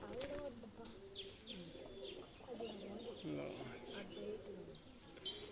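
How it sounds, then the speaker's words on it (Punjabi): Pigeons coo softly with low throaty calls and occasional chirps, close by in a quiet setting, and a voice murmurs faintly underneath. "ਲਓ ਵੀਰੇ ਆ ਕਬੂਤਰ ਆ"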